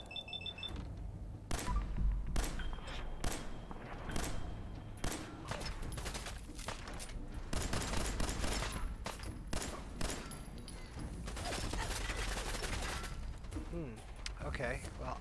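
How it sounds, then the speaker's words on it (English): A submachine gun fires in a World War II shooter video game, with repeated sharp rattling bursts spread across the clip amid other game sounds while people talk throughout. "I also have a submachine gun"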